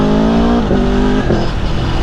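An Aprilia Tuono V4 Factory motorcycle engine revs loudly up close, a steady rasping V4 drone with rising and falling pitch across a couple of seconds, with no voices.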